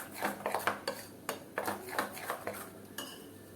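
A spoon or whisk clinks and scrapes rhythmically against a bowl, quick repeated strokes in one direction mixing potato dhokla batter, close and fairly quiet.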